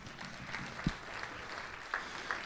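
An audience claps after a jazz ensemble tune at a university concert, a soft, steady patter of scattered applause with a few sharper claps standing out.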